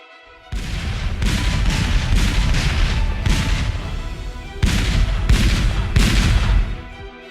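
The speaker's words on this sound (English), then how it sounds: "Confederate cannon along this ridge opened fire" Loud, continuous booming barrage of cannon artillery fire at a Gettysburg Pickett's Charge reenactment, dense and rolling with a brief lull before a second sustained burst.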